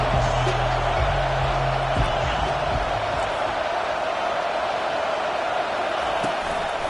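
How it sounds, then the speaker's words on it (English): Football stadium crowd at an Alabama vs Miami game: constant loud roar and murmur of a huge crowd, with a low steady hum and occasional thuds, and a commentator talking over it. "this crowd trying to help keep them there"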